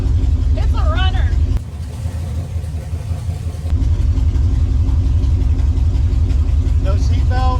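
A 1966 Chevrolet Chevelle's engine runs steadily at idle after decades off the road, a low continuous rumble heard up close, with a brief harsh burst partway through and people talking over it.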